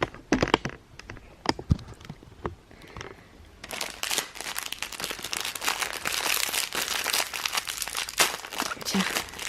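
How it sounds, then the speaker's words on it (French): Paper wrapping is ripped and crumpled off a present at home, starting with a few sharp separate tears and then turning into a dense, continuous crinkling rustle up close, with no voices over it. "Tu enlèves le papier"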